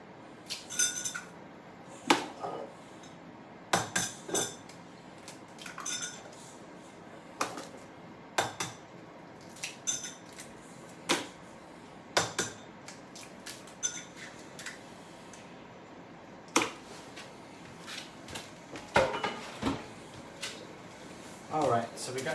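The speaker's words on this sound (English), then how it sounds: "I'm just gonna crack a few eggs" Eggs cracked for egg fried rice in a home kitchen: a series of sharp taps and clinks against a bowl, spread out at irregular intervals, with quiet talking running underneath.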